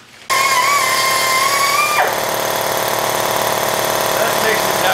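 Air tool running off an air compressor that was low on pressure, used on F150 leaf spring pads in a shop, kicking in abruptly and whirring loud and steady, with its pitch dropping briefly partway through.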